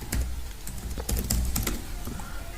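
Rapid keystrokes on a computer keyboard while writing Python code in PyCharm, an uneven rhythm of close, crisp clicks over about two and a half seconds with no talking.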